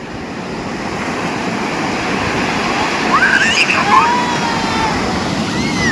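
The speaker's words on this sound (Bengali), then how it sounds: "ওখান থেকে যখন ঢেউগুলো ভাঙছে মনে হচ্ছে পুরো ভাসিয়ে নিয়ে যাবে" Sea waves break on a beach as a loud, steady wash of surf, with brief high squeaky voices or cries rising faintly above the roar midway through.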